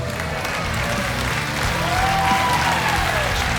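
An audience at a comedy magic show breaks into a big round of applause, loud sustained clapping with scattered cheers and a whistle, swelling slightly toward the middle and holding steady to the end.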